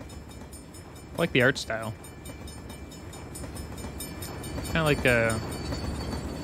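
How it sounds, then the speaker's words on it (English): A steady rolling rumble, like a stylized, somewhat steampunk train, runs beneath the Little Devil Inside gameplay trailer, with someone talking over it twice. "Maybe it's just more a stylized train."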